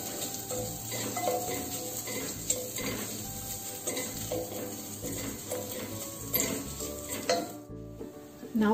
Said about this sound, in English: And we'll just roast it a little bit.